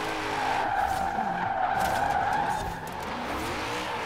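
A BMW M5 E39 sedan drifts through a racing video game on Fortune Island, its tires squealing in a long, unbroken skid over a steady engine roar that holds loud and close for the whole stretch.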